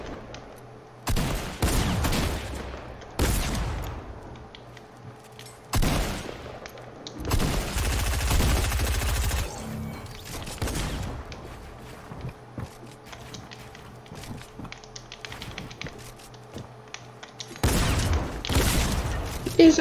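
Rapid gunfire in a shooter video game, sounding as repeated loud bursts and volleys of shots spread over the stretch, with quieter gaps of footsteps and mechanical clicks between them.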